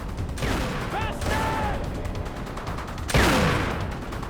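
Enemy shotgun blasts in the Riddick video game, a few loud, sharp reports spaced apart amid ongoing combat noise, with one especially heavy close shot near the end.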